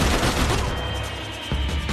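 Rapid AK rifle gunfire from the video game Max Payne 3, a loud dense burst of repeated shots filling the whole moment, close and continuous with little pause.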